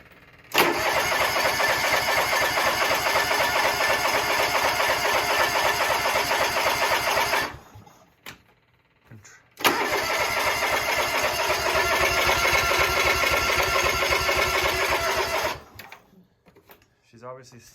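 John Deere lawn tractor engine cranking in two long bursts, a loud rapid churning that runs several seconds, stops, then starts again before dying away, with brief quiet gaps between.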